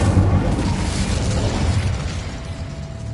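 In the Hogwarts Legacy video game, an Incendio fire spell erupts in a loud rumbling burst that fades into a steadily roaring, crackling rush of flame, with no one talking.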